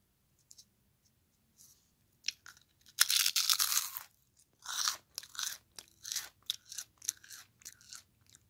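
Crisp, close crunching of pork rinds being bitten and chewed: one long dense crunch burst, then a run of short, rhythmic chewing crunches with brief pauses, recorded quiet and intimate with no talk.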